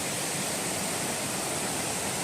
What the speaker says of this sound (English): this must be Brown Mountain Creek